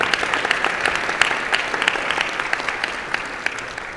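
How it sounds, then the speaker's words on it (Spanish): Steady applause from an audience at a blockchain law forum, a dense, fairly loud spell of clapping with individual claps standing out. "Les voy a pedir un favor, quieren que dan muchos aplausos a Juan Pablo de mi equipo"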